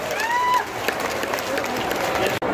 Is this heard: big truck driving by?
no